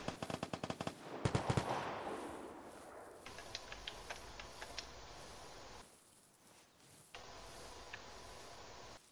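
Gunfire near a hut in the video game Vigor: a loud, close burst of rapid shots up front, then quieter scattered shots continuing, with no one talking.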